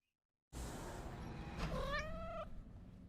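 A cat meows after a short silence, one drawn-out rising meow that starts with a breathy scrape and ends in a clear, close tonal cry.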